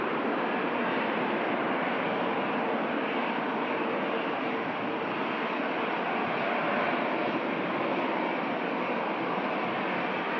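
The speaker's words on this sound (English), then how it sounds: "a Dreamliner just landing in from Jeddah in Saudi Arabia" A Boeing Dreamliner landing at Manchester Airport on arrival from Jeddah, heard as a loud, steady broadband jet roar that holds throughout with no break and no talk.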